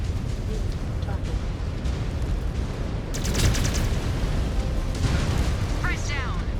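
An enemy mech blows apart in MechWarrior 5: Clans, a dense rumbling explosion roar that swells midway, with a radio-style voice speaking over the blast.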